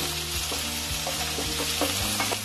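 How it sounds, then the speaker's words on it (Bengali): Potatoes, onions and chopped tomato fry in a pan, a dense continuous sizzle broken by regular scraping strokes as a spatula stirs them. "পেঁয়াজগুলো আলুর সঙ্গে একটু হালকা ভেজে নেব।"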